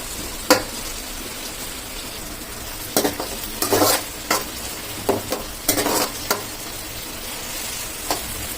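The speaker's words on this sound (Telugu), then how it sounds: "సో ఇక్కడ ఆనియన్ ఫ్రై అయిపోయి గోల్డెన్ కలర్ వచ్చేంత వరకు" Onions frying in oil in a pan, a soft steady sizzle beneath a series of spatula stirs and scrapes that come in short bursts, near and moderately loud, with no speech.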